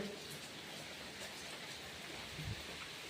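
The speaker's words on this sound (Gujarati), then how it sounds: "અમારા સંજયભાઈ કે મેં આવે વરસાદ." Steady rain patters down, a dense hiss of drops with occasional louder splashes, fairly soft and continuous.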